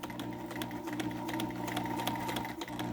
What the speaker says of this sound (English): The machine is all set up to make this test seam.